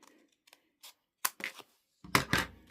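Scissors snip through paper along a drawn line, a few sparse crisp cuts and rustles close by, the last two strokes louder, in a quiet room.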